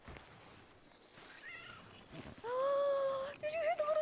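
A cat in the RedM WildRP western role-play game meows in a few drawn-out, high, clear cries, close and loud over a faint game ambience.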